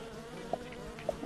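Insect-like buzzing of video game bees drones faintly throughout, with a couple of brief higher chirps popping out, game-like and thin.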